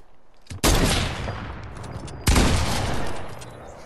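Video game gunfire, in a match where a heavy shotgun and a sniper rifle are in play: two loud, sharp shot blasts about two seconds apart, each followed by a long, rumbling decay, with no talking.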